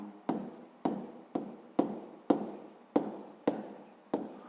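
A pen writes on paper in eight evenly spaced strokes, each a sharp scratch that fades quickly, close and quiet with no voices.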